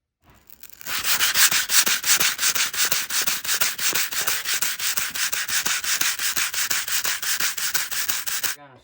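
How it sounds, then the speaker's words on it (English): Rapid, steady back-and-forth sanding strokes rasp continuously against the metal butt plate of an 1863 Civil War musket, close and loud, with no talking. "sand the butt plate"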